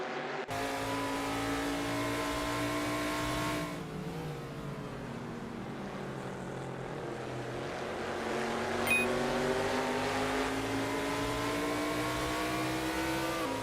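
A Cobra race car engine drones steadily in a racing video game, holding a high, revving pitch that dips, shifts and climbs again as the car runs the track, continuous and close with no talk.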